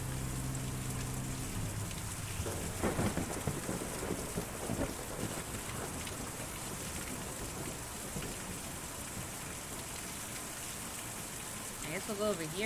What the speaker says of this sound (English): Oh look, an intense thunderstorm.